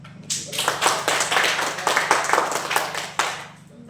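A classroom of students claps for a student group, a burst of lively hand claps that rises quickly, stays busy and uneven, then thins out toward the end.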